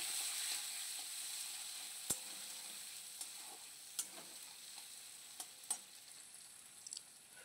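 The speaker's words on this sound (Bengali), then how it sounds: "ওর মধ্যে কেটে রাখা কুচানো পেঁয়াজ এবং কুচি করা টমেটো দিয়ে ভালো করে নাড়তে হবে।" Chopped onion and tomato fry in a pan with a soft, constant sizzle. Occasional sharp clicks come from a spatula stirring, close but fairly quiet, with no one talking.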